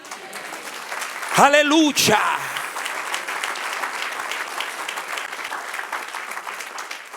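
Congregation in a church applauding steadily through a sermon, with a short sung or shouted exclamation near the start and sustained clapping continuing throughout.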